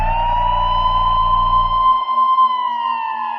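An ambulance siren wails loud and close with a steady rising tone, while a low rumbling engine underneath cuts out partway through.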